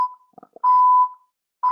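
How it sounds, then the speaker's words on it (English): A rubber testing laboratory machine gives off clear electronic beeps, a short tone, then a longer sustained beep, then another starting at the end, alongside faint soft noises. "he's got the beeping on in the background"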